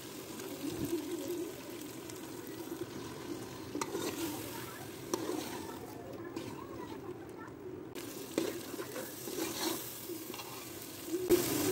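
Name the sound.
stirring boiled chana dal into sizzling fried masala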